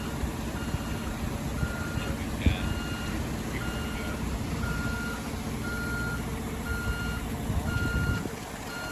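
A heavy concrete truck at a foundation pour idles and rumbles nearby while its reversing alarm beeps steadily in a regular repeating pattern, cutting off near the end.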